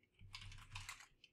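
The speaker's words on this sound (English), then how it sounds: "So I can start typing." Typing on a computer keyboard during email composition, a quick close run of soft key clicks lasting just over a second.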